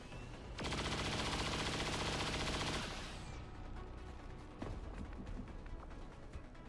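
Cyclic fire in the video game XCOM 2 sounds as one loud, rapid burst of gunfire lasting about two seconds, then fades into quieter rumbling battle noise with a later thud.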